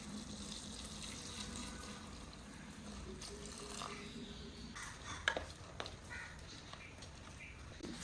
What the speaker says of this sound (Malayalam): ഇനി ഇതിലേക്ക് വെള്ളം ചേർക്കാം. ചൂടുവെള്ളം ചേർക്കുന്നതാണ് ഏറ്റവും നല്ലത്.